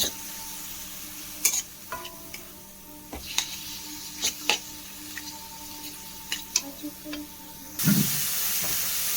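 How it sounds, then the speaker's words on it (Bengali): Chicken pieces fry over a high gas flame in a pan with a steady low sizzle and hiss, punctuated by scattered sharp scrapes and taps of stirring, with no talking. "চিকেনটা একটু ভাজা হচ্ছে গ্যাসের ফ্লেমটা জোর করে দিয়েছি"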